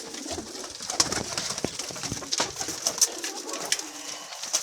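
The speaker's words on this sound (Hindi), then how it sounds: "लो जी बड़े बड़े मज़ेदार, बड़े बड़े उड़ारी कबूतर, ये भी देख लें।" Pigeons kept for sale coo repeatedly, soft throaty calls rising over a busy background of rustling and faint clatter, close and steady.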